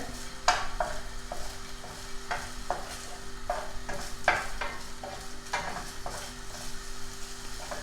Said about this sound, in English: the pork belly, we are frying it